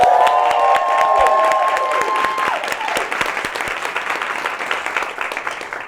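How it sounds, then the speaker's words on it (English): A studio audience applauds and cheers for a TV show host, loud and steady throughout, with a tonal sound fading early on. "Let's clap for that."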